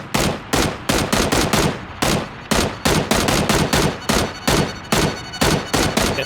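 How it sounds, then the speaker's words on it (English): Rapid bursts of automatic gunfire from PUBG battle royale, loud and close, firing in quick strings of shots separated by short gaps across the whole stretch. "Somebody may have heard those shots."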